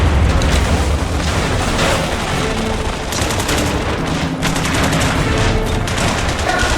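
Continuous sniper and automatic gunfire from a World War II Nazi-occupation battle in the video game The Saboteur, dense overlapping bursts and booms filling the whole stretch at high, steady loudness with no voices.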